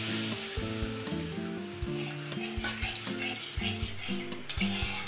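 Thinned flour and cornflour batter hitting hot gravy in a pan for a green banana kofta curry, a loud close sizzle with a rhythmic, repeated clatter of a spoon stirring and scraping the pan.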